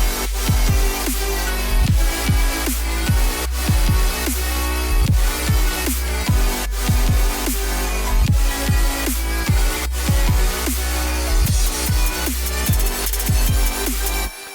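Full future bass drop produced in FL Studio 20, a loud, dense mix of pitched synth swoops, punchy kicks and bright chords, running steadily for about fourteen seconds before cutting off abruptly, no voice.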